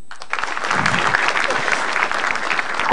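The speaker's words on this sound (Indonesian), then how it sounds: "Tepuk tangan lagi deh." An audience at an Indonesian stand-up comedy show bursts into steady, dense applause that swells quickly and holds loud for a few seconds, with no voice over it.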